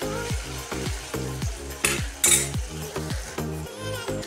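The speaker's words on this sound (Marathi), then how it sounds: "हे टोमॅटो मंद आचेवर 2 ते 4 मिनिट ठेवून असं परतून घ्यायचं आहे" Tomatoes sautéing on low heat in a pan for a cashew curry masala, with a rhythmic series of spoon scrapes and stirs over a soft continuous sizzle, close and clear, no talk.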